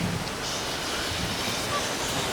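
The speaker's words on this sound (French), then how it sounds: "Marée." Tide washing onto a shore gives a soft, steady surf wash, faint and continuous with a gentle rush and no distinct individual wave breaks.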